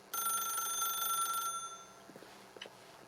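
A telephone in The Stanley Parable video game rings loudly with one sustained, bright electric bell ring lasting just over a second, followed by quieter faint clicks and footsteps.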